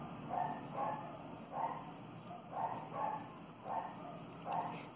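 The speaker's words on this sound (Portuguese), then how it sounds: "os cachorros dos vizinhos faz tanto barulho essa hora" Neighbours' dogs barking in a steady series of moderate, slightly distant woofs, roughly one every half second, over a faint constant background hum.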